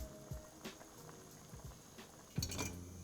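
Homemade paupiettes simmering in broth with a homemade sauce, a faint, soft bubbling with occasional light pops and clinks of a pan, quiet and close, with no talking.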